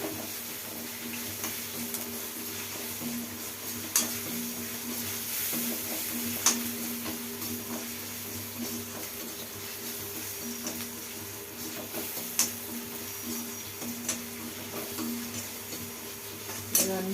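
A tempering of spices sizzling in hot oil in a pan for a drumstick curry, with a steady frying hiss and occasional scraping clicks of a stirring spoon against the pan, no talking.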